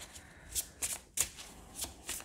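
Tarot cards riffled and laid down in a quiet room during a reading: several short papery shuffling bursts and soft slaps of cards placed on a surface, close and fairly quiet, with no talking.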